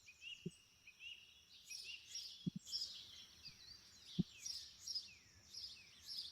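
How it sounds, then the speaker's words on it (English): Birds singing in a quiet natural bush setting, several high chirps and trilling phrases repeating, fairly soft and distant, with a few low thumps and no talk. "Focus on the birds in the background."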